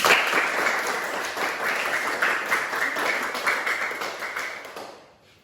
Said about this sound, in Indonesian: Oke, aplaus untuk kelompok 2.